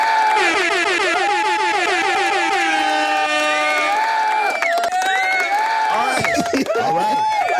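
Sound-effect applause and air horn: loud, repeated wavering air-horn blasts stack over one another, followed by whoops, shouts and crowd cheering, with people speaking under the noise.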